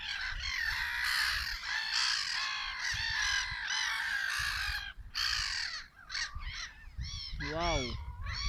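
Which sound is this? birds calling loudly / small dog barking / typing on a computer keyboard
birds calling loudly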